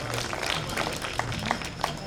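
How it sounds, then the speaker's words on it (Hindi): An audience applauds at a poetry gathering held at a Navratri fair, with a dense wash of clapping heard from fairly close. It lasts about two seconds with a few louder individual claps standing out. "एक बार जोरदार तालियां मैं पुनः मांगता हूं आपसे उस व्यक्ति के सम्मान में"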